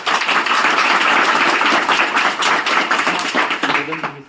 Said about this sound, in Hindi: चलो बहुत बढ़िया, ताली बजा दो फिर अपने विज्ञान पर